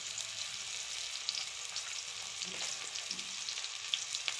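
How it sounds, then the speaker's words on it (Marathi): Tomato masala sizzles and fries steadily in a frying pan while being stirred with chilli powder and salt, a dense hiss holding throughout with faint scraping. "चांगलं हलवून घ्यायचं।"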